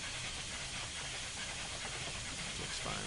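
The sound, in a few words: steam hiss of Union Pacific FEF-3 844 locomotive, Train Simulator 2015 video game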